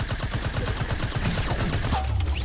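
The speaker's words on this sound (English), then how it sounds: "Look, I'm just shooting it out." Rapid, dense gunfire bursts from shooting in the Fortnite video game, a steady loud volley of repeated shots lasting throughout with no talk over it.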